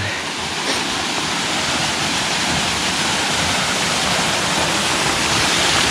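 Watu Talang waterfall on the slopes of Merbabu, Boyolali, roaring steadily and loudly, a continuous broadband rush of falling water that fills the whole clip without a break.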